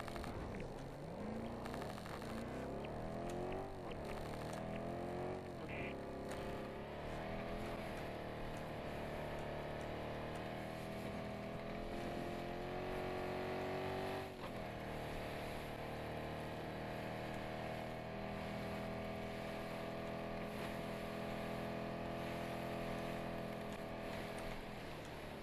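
A vehicle driving in Battlefield 2042, its engine holding a steady whirring drone that rises and falls as it accelerates, loud and continuous from start to finish.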